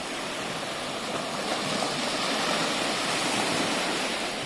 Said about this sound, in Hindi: Just listen this beautiful sound man. कितना कानों को अच्छा लगता है इस पानी का आवाज़.